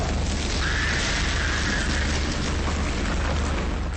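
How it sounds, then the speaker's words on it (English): A fire glaive burns through webbing in the Dark Sector video game, a loud continuous roaring rush of flame with a rising whoosh, dense and unbroken, no speech. "you can throw the fire glaive right into the webbing and it'll burn it"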